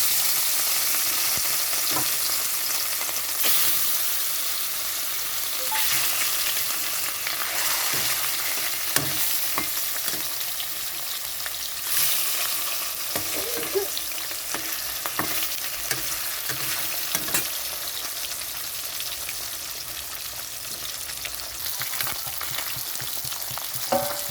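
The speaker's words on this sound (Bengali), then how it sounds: "কড়াইতে তেল গরম হয়ে গেছে সর্ষের তেল এখন আমি মাছগুলো ভাজার জন্য ছেড়ে দিচ্ছি" Katla fish pieces frying in hot mustard oil in a kadai, a continuous loud sizzle and crackle sustained throughout with occasional sharper pops and faint stirring clinks.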